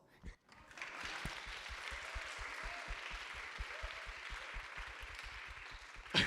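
Audience at a university speech contest breaking into applause, a dense steady clapping that holds for several seconds at moderate distance, with a brief voice at the start.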